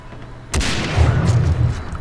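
A sudden loud blast from an explosion in the shooter game Far Cry 3 hits at about half a second and leaves a rumbling, crackling tail that runs to the end, with no talk over it.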